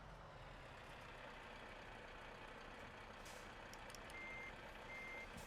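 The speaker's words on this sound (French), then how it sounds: "Là, tu fais une petite marche arrière." Truck reversing alarm in Euro Truck Simulator 2, an Iveco delivery run from Bordeaux, beeping repeatedly over a steady engine drone, with a brief hiss like an air brake midway.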